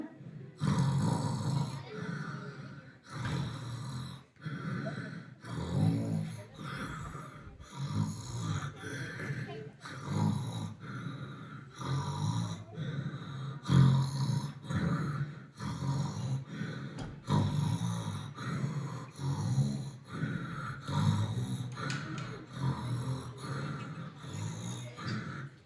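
A voice imitates snoring, producing a long series of rhythmic, rasping snorts and drawn-out breaths, close and fairly loud, repeated for many cycles.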